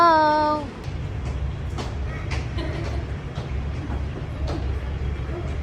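MRT metro train rumble at a station, a low steady drone with occasional clanks and squeals, preceded by a brief rising tone.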